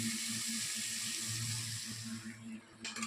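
Chicken pieces fry in hot oil with a loud, continuous sizzling hiss that eases off toward the end, where a few light clinks break through.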